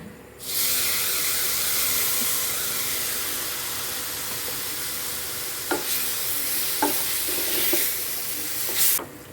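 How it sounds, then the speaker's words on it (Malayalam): Tomato puree hits hot oil in a pan for a Kerala-style squid roast, giving a steady close sizzle with a few light stirring scrapes and clicks toward the end; no one speaks. "ഒരു ചെറിയൊരു തക്കാളി അരച്ച് വെച്ചേക്കുന്ന ടൊമാറ്റോ പ്യൂറി ആണെങ്കിൽ നമുക്കിത് ചേർത്ത് കൊടുക്കാം"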